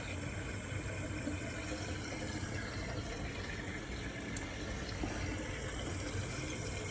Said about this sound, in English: The liquid goes through, it's being pulled by the vacuum